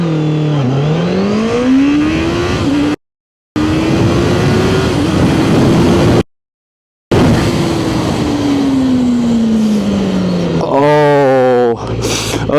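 A QJMOTOR sport motorcycle screams through a hard acceleration run, its engine note climbing loud and close through several gear changes with short breaks between them, ending in a quick high rev.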